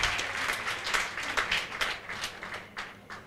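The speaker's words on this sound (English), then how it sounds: "Can we please give our Honorable Minister a resounding round of applause?" Audience at a women's economic assembly side event during Mining Indaba gives a round of applause, sustained clapping from many hands at moderate distance, with uneven bursts rising and falling throughout.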